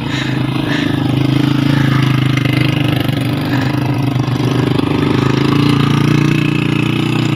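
Motorbike climbing a mountain track toward Nathia Gali, its engine droning loud, close and continuous throughout with a steady low hum.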